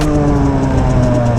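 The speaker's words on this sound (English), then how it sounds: "The engine will just rev out and you lose too much power before you're up at balance point." Derbi Senda moped engine revving out hard during a wheelie attempt, a steady high-pitched two-stroke drone held at high revs, loud and close for the whole stretch.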